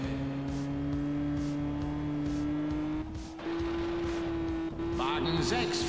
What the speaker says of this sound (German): Wagen 2 setzt Nitro ein und fährt am Limit